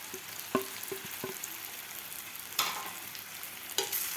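Masala-coated green chillies frying in oil in a pan, a continuous close sizzle broken by several sharp scraping and clinking stirs, with no talk.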